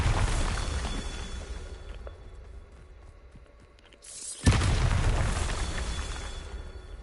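A Bombarda blasting spell in Hogwarts Legacy goes off as a single loud, sharp explosion. A steady rumbling bed builds, dips low, then erupts abruptly into a full blast that rolls on with a long, noisy tail.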